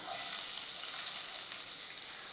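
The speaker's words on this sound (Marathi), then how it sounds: "आता पॅनमध्ये चमचाभर तेल घ्यायचं यामध्ये घालायचं आहे कांदा" Onion frying in a spoonful of oil in a pan gives a steady, even hiss of close sizzling that runs on without a break. No voices are heard.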